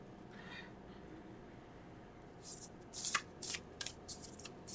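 A deck of cards is shuffled up close, a quick run of crisp riffling bursts after a quiet start, faint and isolated in a still room.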